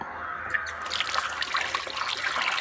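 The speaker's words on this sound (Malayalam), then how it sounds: "ഇത് നമ്മുടെ പൈപ്പാണ് നിങ്ങൾ കണ്ടിട്ടുണ്ടോ പൈപ്പ്" Water trickles steadily from a tap, a continuous splashing hiss with a brief quieter moment near the start, close by and with no talking.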